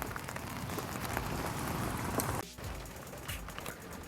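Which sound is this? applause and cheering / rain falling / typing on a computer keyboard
rain falling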